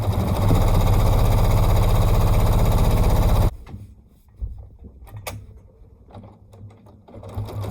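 A domestic sewing machine stitches quilting in a loud, steady whir for about three seconds, then stops, leaving quiet handling noises and light clicks.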